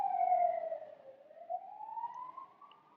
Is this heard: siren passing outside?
yes